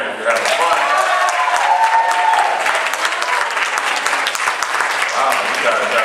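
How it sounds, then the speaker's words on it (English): A concert audience claps steadily for several seconds at a spring high school concert, a dense, continuous wash of many hands with a few voices and a faint tone mixed into the crowd noise. "clap your hands if you're having fun"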